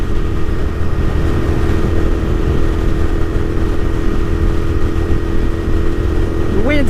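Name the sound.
wind noise riding a Royal Enfield Continental GT650 at 120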